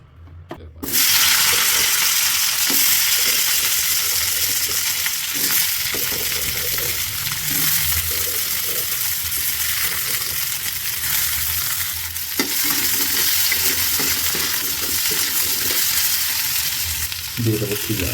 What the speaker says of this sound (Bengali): এখন তরকারি তেলে দেওয়ার পালা।